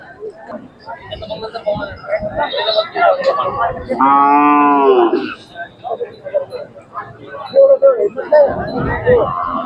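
A young bull lets out one long, loud moo amid a crowd of talking voices and general bustle at the Sangola cattle market in Maharashtra, selling Hallikar and Khillar bullocks.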